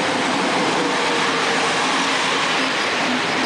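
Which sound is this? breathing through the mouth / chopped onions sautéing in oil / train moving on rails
train moving on rails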